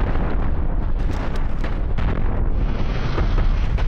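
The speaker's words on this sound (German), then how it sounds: "Wir ballern direkt auf die Kanone." Dense, continuous booming of starship cannon fire and explosions in the video game Cosmoteer, loud and rumbling throughout, with no voices.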